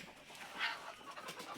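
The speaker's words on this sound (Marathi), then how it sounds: "अंड्यावर कोंबडी बसलेली." Chickens in a small backyard poultry shed with about twenty hens, some sitting on eggs, giving soft clucks and bird calls at close range over low background rustle, with no talking.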